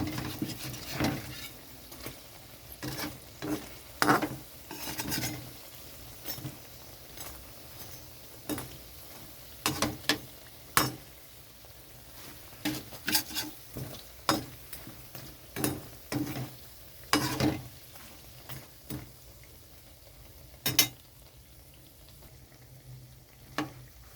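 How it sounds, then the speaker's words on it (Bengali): Dahi vada lentil dumplings fry in a little oil over low gas, crackling and popping in uneven bursts above a quiet, steady sizzle. "গ্যাসটা কমিয়ে কমিয়ে ভাজলে ভিতরটা ঠিকঠাক ভাজা হবে"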